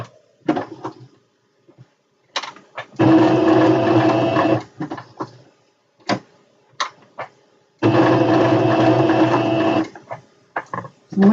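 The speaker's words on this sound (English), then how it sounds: "And then we're just going to stitch up the line." A sewing machine stitches a seam on a satin drawstring bag in two sustained, steady bursts of several seconds each, separated by quiet handling clicks and taps close by.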